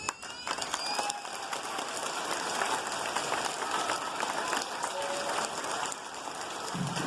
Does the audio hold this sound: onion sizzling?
no